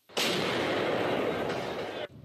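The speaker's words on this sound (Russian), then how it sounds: "Это артиллеристы наносят удары по бронетехнике украинской армии под Киевом." Artillery fires on Ukrainian armored vehicles near Kyiv in a single loud, roaring blast that lasts about two seconds and then cuts off abruptly.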